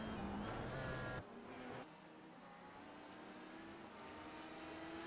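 A pink Porsche 919 race car's engine in iRacing at Silverstone, a loud steady whine that drops abruptly in pitch and level as the car slows toward the pits, then holds a lower drone.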